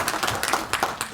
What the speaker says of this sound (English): I think you can give her a round of applause.